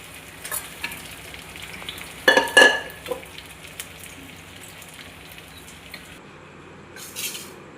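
Spices crackling and sizzling as they hit hot oil for a chhonk tempering, a low steady sizzle with a louder sputtering burst near the middle and a brief flare near the end.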